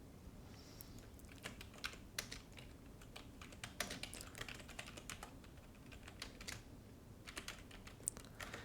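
Fingers type on a computer keyboard while a game server and network are set up, a quiet, irregular run of clicky keystrokes with short bursts and pauses, heard close with no voice.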